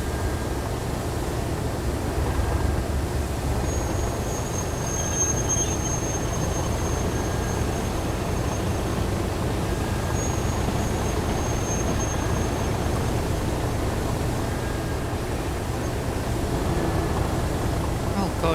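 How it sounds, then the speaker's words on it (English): A Class 37 diesel locomotive in Train Sim World 3 rumbles steadily as it slows down, a continuous low engine drone with faint wheel and rail noise throughout and a voice talking over it. "when I put the power back to idle there, it jolts the train quite a bit and then we start decelerating"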